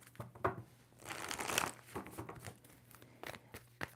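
Tarot cards shuffled by hand, a few crisp riffling bursts with papery crinkles, close and fairly quiet, no voices.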